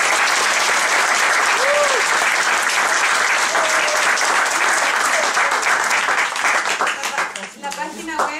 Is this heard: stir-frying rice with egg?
no